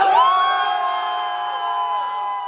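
Crowd at a freestyle rap battle in Varna cheering loudly, a sustained roar of shouts and whoops with tonal yelling, dense and close throughout.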